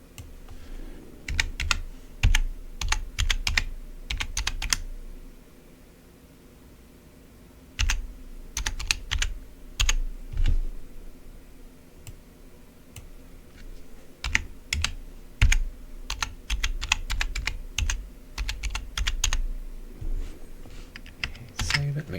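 Rapid bursts of computer keyboard typing, close and crisp, in irregular clusters with a short pause early on, over a quiet room hum.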